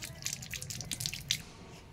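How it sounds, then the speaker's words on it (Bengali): Rooftop tap water splashes over freshly picked tulsi leaves, a faint, close patter of drips and trickles with quick irregular spatters throughout. "এবার এগুলো আমি ছাদের কলেই ধুয়ে নেব।"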